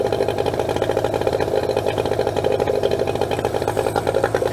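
A Yamaha 9.9 outboard engine runs steadily during winterizing with Seafoam being drawn into the carburetor, a close, loud, rapid rhythmic putter with a buzzy mechanical whir that holds even throughout.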